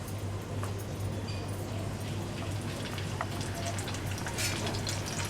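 Torn curry leaves fry in a pan of hot oil while cooking tomato chi bhaji, a steady close sizzle with light, rain-like crackles and occasional pops under a constant low hum.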